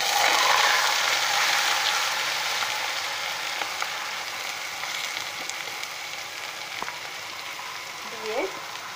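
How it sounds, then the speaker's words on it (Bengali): Vegetables frying in a hot pan for a hotel-style vegetable dish, a loud, steady close sizzle that fades slightly over time, with a few faint clinks near the end and no talking. "এবার এর মধ্যে আমি যে সবজিটা রেখেছিলাম সবজিটা দিয়ে দেব।"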